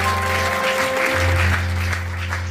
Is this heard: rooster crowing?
no